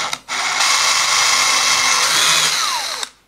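A power drill fitted with a 2 mm bit bores a hole during a cabinet door hinge repair of stripped screw holes, giving a loud, close, steady whine for nearly three seconds between a brief start and a clean stop.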